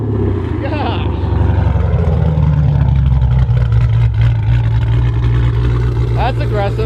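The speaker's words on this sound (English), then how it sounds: "What exhaust you got on that bad boy? Borla attack." A car engine fitted with a Borla Attack exhaust and 392 long tube headers idles with a deep, steady rumble close by, while people talk over it.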